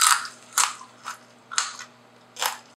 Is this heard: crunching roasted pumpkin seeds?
yes